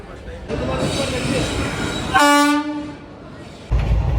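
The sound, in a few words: train arriving at station with horn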